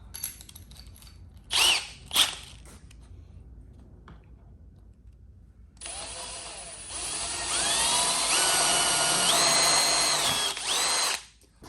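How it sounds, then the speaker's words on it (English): After a couple of short clunks and a quiet pause, a power drill whirs loudly and steadily for several seconds, boring quarter-inch holes through wood, its pitch rising and dipping as it bores. "And then we'll drill some 1/4 inch holes right through the middle of those."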